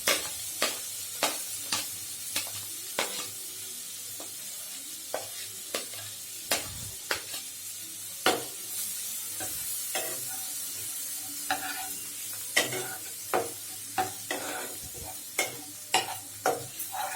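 Onions fry in a pan for palak paneer, giving a soft, continuous sizzle broken by frequent sharp clicks and scrapes of a spoon stirring against the pan, fairly close and quiet.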